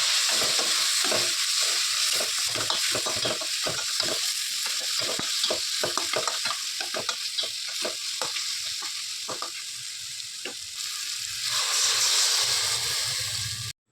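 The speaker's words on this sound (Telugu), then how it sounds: "మిర్చి పౌడర్, ధనియా, జీలకర్ర వేసుకొని కలుపుకుందాం" Salt, chili powder, coriander and cumin get stirred into upma in a pan: a continuous frying hiss with a quick run of clicking, scraping spoon strokes, ending in a brief louder sizzle.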